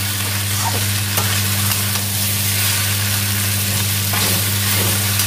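Jackfruit fries with onions in a pan under steady loud sizzling, broken by repeated scraping stirs of a spatula against the pan.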